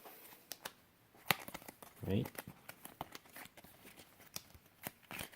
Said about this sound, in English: I will just shuffle them